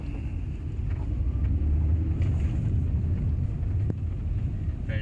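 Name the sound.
Toyota Prius car driving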